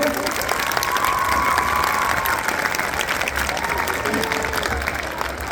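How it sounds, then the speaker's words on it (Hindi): Students clap for themselves at a school Republic Day function, a steady crowd of applause sustained throughout with a voice faintly over it. "तो बजाओ अपने लिए तालियां, बजानी आपको बजाओ।"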